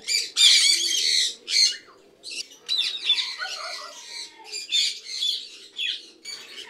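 Parakeets and blue-cheeked conures in an aviary give loud, harsh squawks and shrill chirps in repeated overlapping bursts, close to the microphone with no talking.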